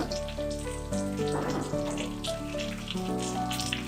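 Stuffed pointed gourds filled with prawn sizzle steadily in a pan, a continuous soft frying hiss running under louder background music.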